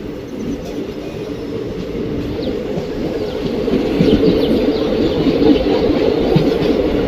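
A passenger train rolls steadily into Madurai Junction, its low rumble of wheels and carriages continuous and close, growing slightly louder toward the end, with faint birds chirping in the background.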